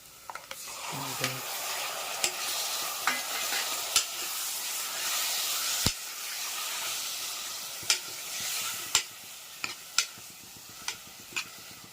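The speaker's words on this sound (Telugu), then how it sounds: "ఇప్పుడు టమాటా వేసుకుందాము." Tomatoes fry in a pan for a drumstick and tomato curry with turmeric. A soft continuous sizzle runs under repeated sharp spoon taps and scrapes as the mixture is stirred, with no talking.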